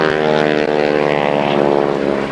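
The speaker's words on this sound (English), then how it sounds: "Back down on the bottom side once again, picking up speed as the throttle goes full forward." A 1930s Stearman biplane roars with its propeller at full throttle during an aerobatic airshow routine, a loud, steady, close engine drone that builds as it picks up speed.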